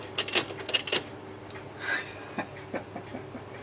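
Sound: old typewriter being typed on

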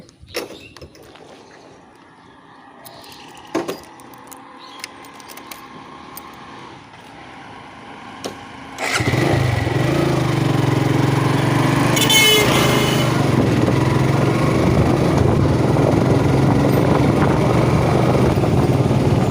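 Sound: motorcycle engine starting and riding on highway

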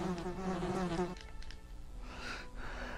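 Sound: buzzing bees in the video game Resident Evil

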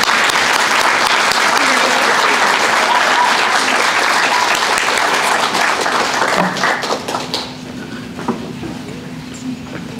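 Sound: audience applause for art show award winners

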